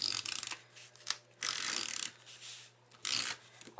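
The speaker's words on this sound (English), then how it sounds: "I'm going to put adhesive on the back of my" Adhesive is applied to the back of a paper quilt block for a handmade tulip card, heard as several bursts of dry scraping and rubbing with brief pauses between them, close up and alone.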